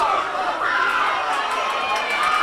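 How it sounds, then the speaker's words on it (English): Fans at a boys high school soccer game cheer and shout in a steady, dense crowd roar, children's voices mixed in, with chatter running throughout. "Not only are the Cub fans excited, they're all cheering."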